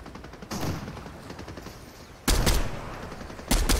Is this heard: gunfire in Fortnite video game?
yes